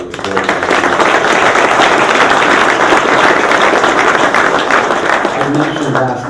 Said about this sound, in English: and one more round of applause for this.